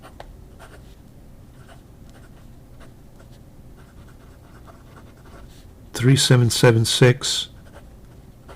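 A fountain pen nib scratches faintly across paper in short strokes, and near the end a person speaks clearly over the quiet writing.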